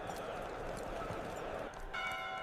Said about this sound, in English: Inside, the chapel bell blends with the sound of horse hooves striking the stone yard.